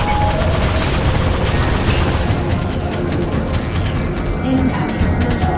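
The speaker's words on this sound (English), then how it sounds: "Incoming missile." Continuous heavy booming and rumbling blasts from missile explosions in Freelancer space combat fill the stretch loudly, with a voice talking in the background.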